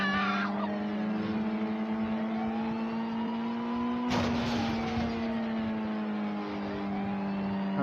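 A video game car engine holds a steady whine as the car is launched off a ramp during a police chase, then a sharp burst of noise near the midpoint before the engine tone carries on.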